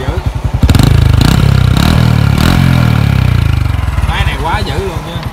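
A Honda Wave ZX motorcycle engine with an original cylinder head runs loudly up close, its pulsing idle revving up briefly before settling back into a steady, throbbing beat.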